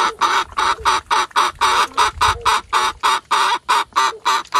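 Blue red laced chickens clucking in a coop, a steady run of loud, close, rhythmic clucks and squawks in evenly spaced bursts with no talking.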